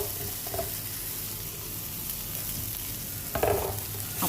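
Ingredients for idli upma sauté in a pan, giving a moderate, continuous sizzle with occasional stirring scrapes, one louder stir near the end, and no voices.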